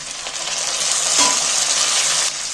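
Chopped tomatoes land in a hot pan of frying spinach and lentils, setting off a loud, steady sizzle up close, with a brief stirring clink partway through and no voices.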